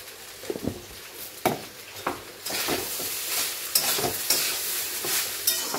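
Peas pulao is turned over in a hot pan: rhythmic scraping stir strokes recur every second or so over a soft, steady sizzle, close and fairly loud.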